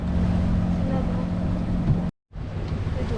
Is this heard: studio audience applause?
no